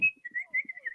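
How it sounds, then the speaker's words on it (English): A person whistles a short tune in one wavering high-pitched line with brief pauses between notes, alone and at moderate volume. "Just a whistle for the last 15 minutes."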